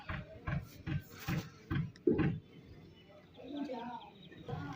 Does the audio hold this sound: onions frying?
no